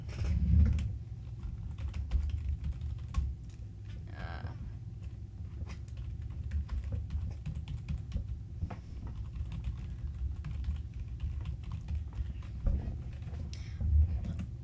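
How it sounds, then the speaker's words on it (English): Soft, rapid keystrokes tap on a computer keyboard in irregular bursts for about fifteen seconds over a low room hum, close and fairly quiet. "Just go to your link and just type in the link with the"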